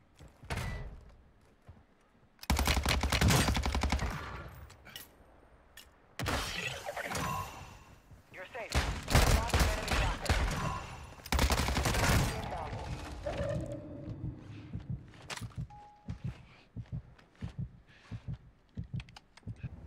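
Gunfire in Call of Duty Warzone comes in several loud bursts of shots spread across the clip, with dense clustered volleys in the middle. Quieter game noise and clicks fill the gaps.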